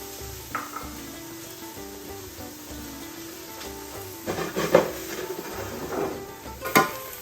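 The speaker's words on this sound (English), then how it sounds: "Look how these vegetables are starting to saute." Onions and carrots sauté in a hot, smoking pan at a wood-fired oven, with a low sizzle under scraping stirs and a few sharper metallic clanks of utensil on pan toward the end.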